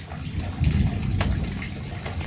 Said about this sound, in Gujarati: જો વરસાદ આવ્યો છે